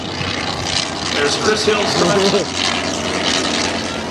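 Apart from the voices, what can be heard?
Fokker Dr.1 triplanes flying overhead, propeller engines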